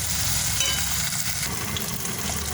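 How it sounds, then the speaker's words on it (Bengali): Ginger and garlic paste sizzles loudly as it is stirred and fried in a pan, a steady close hiss and crackle with no voices. "ভালো করে নেড়ে নেবো আর একটু ভালো করে কষিয়ে নেবো, যাতে রসুন আদার গন্ধটা না ছাড়ে কাঁচা"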